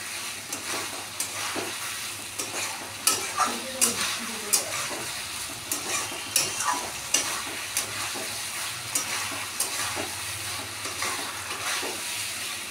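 Potato and taro vegetarian curry fries in oil under steady sizzling. A spoon stirs it in a run of close, sharp scrapes and knocks against the pan, with no voices.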